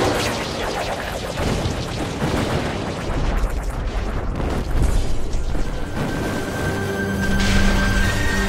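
Heavy, continuous battle noise in a video game with booming cannon blasts and crackling gunfire, loud and dense throughout, with a steady tone emerging near the end.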